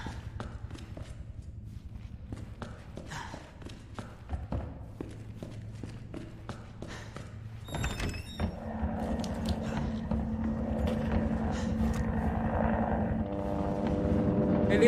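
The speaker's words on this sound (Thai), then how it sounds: "เฮลิคอปเตอร์ว่ะ" A helicopter in Resident Evil 2 builds gradually from distant thumping to a louder, steady rotor drone over footsteps and game ambience, growing closer toward the end.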